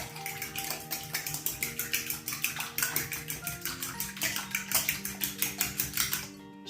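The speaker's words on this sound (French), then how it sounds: "Voilà, je mélange bien." Eggs and milk for a tuna quiche whisked in a bowl, a fast, regular rhythmic clicking and sloshing of the whisk against the bowl, close and continuous, with no one speaking.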